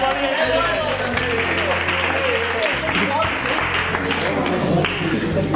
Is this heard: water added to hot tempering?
no